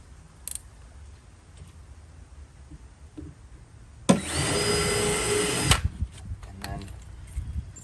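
A power drill with a large bit countersinks a screw hole in a radio cabinet build, a loud steady whine lasting under two seconds that stops abruptly, with quieter workshop handling noises around it.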